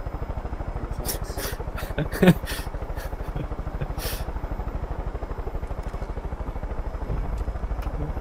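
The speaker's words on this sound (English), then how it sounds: "Why do you keep shooting the helicopter?" A video game helicopter's rotor thuds in a fast, steady chop throughout, with occasional sharp bursts of clatter over it.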